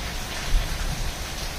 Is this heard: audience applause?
no